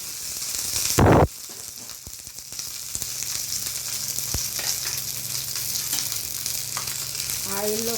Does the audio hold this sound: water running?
no